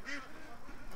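Ducks quack in a short burst from a flock gathered at the front of a pen, moderately close, with no talking over them.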